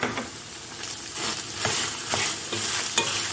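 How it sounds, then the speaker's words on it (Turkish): Onions sizzle steadily in a hot pan while a utensil stirs and scrapes against the metal every half second or so. "Şöyle soğanımla 1-2 dakika kavuruyorum."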